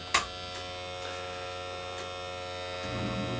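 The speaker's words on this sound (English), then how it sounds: "Pump's working on the unit here" Steady electrical hum with layered tonal lines from a 90% American Standard furnace starting up, its pump or inducer running, with a brief click at the start and a slight rise in the drone near the end.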